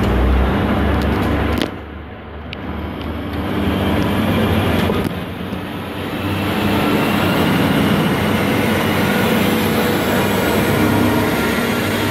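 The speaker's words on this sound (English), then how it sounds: "we have NT36 passing through platform" A train roars loudly past at close range through a station platform near Metford, Sydney region, a sustained rumble of wheels and rails with rattling and a brief dip in the middle.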